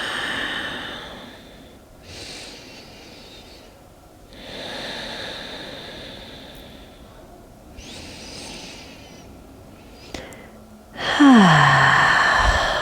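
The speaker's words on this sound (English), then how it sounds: "And breathe." Deep breathing during a yoga pose: several slow, audible inhales and long exhales spaced a few seconds apart, close and soft, ending in a louder, sharper breath with no talking.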